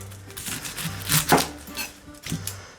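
A knife slices an onion open on a board, a few close crisp cuts and taps with a sharper crunch midway, separated by short quiet gaps.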